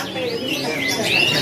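Canaries at a bird market stall in Indonesia sing in a bright, continuous chorus of warbles and trills, loud and close with a busy background.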